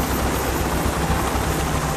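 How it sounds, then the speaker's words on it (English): Police helicopters in the video game Payday The Heist thunder overhead with a dense, loud rotor drone and rhythmic low thumping, steady throughout with no talk. "Choppers! They're dropping swats into the choppers!"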